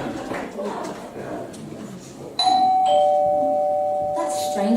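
A two-tone doorbell chime rings out clearly in a home during a family scene in a Beauty and the Beast stage production, its tones sustained and then struck again after a stretch of background chatter.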